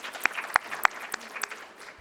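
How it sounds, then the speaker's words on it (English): Sparse, loose applause from a small audience at a Wall Street Journal CDiG 2019 event, with a handful of distinct claps spread over two seconds at moderate volume in a room. "we could give them a round of applause"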